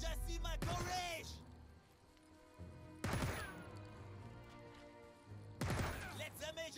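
Three separate gunshots from the video game Jagged Alliance 3 ring out loud and sharp, each decaying into a ringing tail, spaced a few seconds apart over a low background hum.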